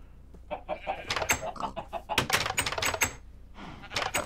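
A chicken in Minecraft clucks in quick, busy bursts close up, a rapid choppy run of clucks filling the whole stretch.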